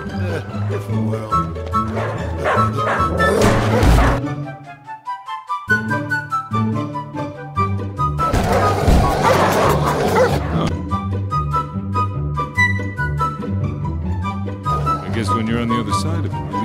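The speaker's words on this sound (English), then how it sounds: "Releasing hounds can be cruel." Cartoon hounds from The Simpsons bark and yip repeatedly with a few whimpers, loud and close, over a bed of music with dialogue in the background.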